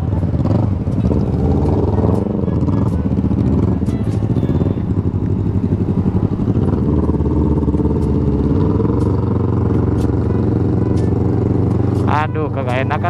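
A Honda Vario scooter is ridden along a wet road after drizzle, its engine a steady, close, continuous hum with brief revving swells, while people talk over it throughout.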